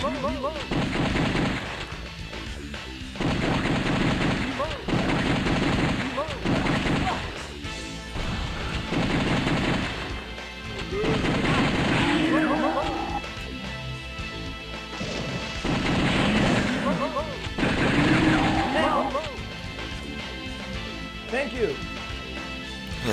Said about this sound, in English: can actually hear the zombies, you can hear the gunshots going off.